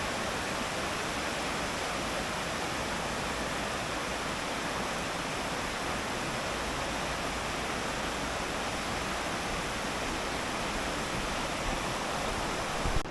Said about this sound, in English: So this is the River Greta,